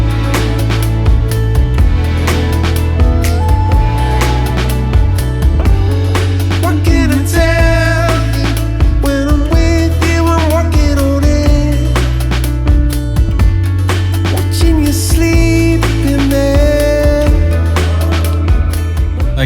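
A song plays as a loud, full studio mix with steady bass, layered keys and a sung melody, running continuously with no talk over it.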